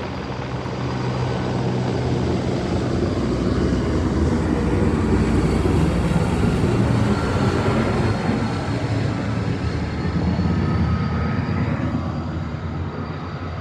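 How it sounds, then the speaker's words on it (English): A helicopter passes low overhead, a loud steady broadband roar that swells near the middle and eases slightly toward the end. "Here comes another chopper."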